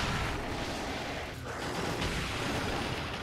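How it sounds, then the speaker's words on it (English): Loud, dense roaring blast of the Sonic Cannon attack in the video game Monster Hunter Generations Ultimate, sustained across the whole stretch with a brief dip midway and no talk. "There's the Sonic Cannon again."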